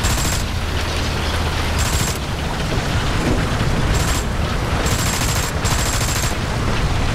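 Bombing explosions and gunfire in a War Thunder battle around capture point A, a dense, continuous roar of booms and shots, loud and close throughout with no break.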